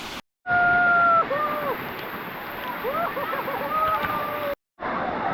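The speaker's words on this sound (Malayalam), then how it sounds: "വെള്ളച്ചാട്ടത്തിന് അടിയിൽ നമുക്ക് ഇങ്ങനെ കിടന്ന് മേത്തേക്ക് വെള്ളം ഇങ്ങനെ കുളിക്കാനുള്ള സൗകര്യം കിട്ടും" Aanachadikuth Waterfalls pouring and splashing while people bathe beneath the falls, a continuous rushing wash of water with faint voices and brief whistling tones over it, cut by two short silent gaps.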